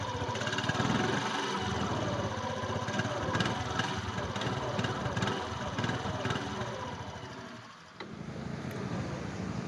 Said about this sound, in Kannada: ಈಗ ಸೌಂಡ್ ನೋಡಿ, ಇಂಜಿನ್ ಸೌಂಡು